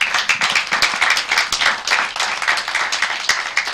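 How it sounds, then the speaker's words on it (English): Audience at a corporate sustainability report launch in Nigeria giving a dense, steady round of applause, many hands clapping together at a loud, even level throughout. "I think they deserve a round of applause."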